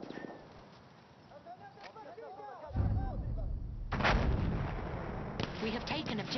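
Battlefield 1 video game combat: deep artillery booms and bursts of gunfire, with heavy blasts landing mid-clip and continued firing after, while a voice talks over the battle.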